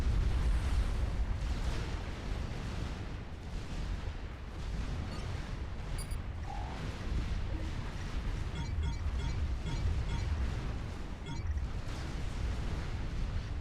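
Relentless artillery fire and explosions from a Supreme Commander 2 real-time strategy battle against megaliths, a dense roar of overlapping booms and bursts with no letup and no talking.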